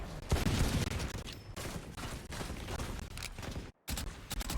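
Repeated sharp pistol shots from Sheriff handguns in a Valorant esports match crackle in dense, rapid bursts, loud and close, with a brief gap near the end.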